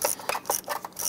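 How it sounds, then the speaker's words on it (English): Ratchet with a 10mm socket extension turning a bolt behind the alternator of a 2002-2008 Dodge RAM engine bay, close, rhythmic metallic clicking in several quick strokes. "Using a 10mm socket extension, we want to go ahead to this front bolt down here."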